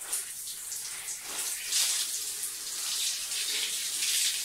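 Water sprays and hisses steadily from a shower in a mountain home, with slight surges in the flow and no voices.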